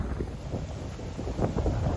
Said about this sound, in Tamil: இப்போ காற்று வந்து இந்த பக்கம் இருந்து இந்த பக்கம் அடிக்கிறதால